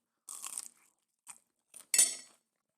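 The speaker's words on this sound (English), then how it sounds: "this is just crunchy and then everything inside is soft" A fried pizza roll snack crunches as it is bitten and chewed close to the mic, in four dry crisp bursts with silence between them, the last one loudest.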